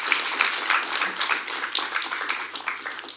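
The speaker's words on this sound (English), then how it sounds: "Let's have a round of applause." An audience at a national tourism debate final applauds, a steady dense patter of clapping hands with no voices over it.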